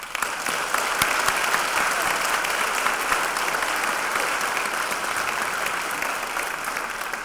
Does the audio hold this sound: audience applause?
yes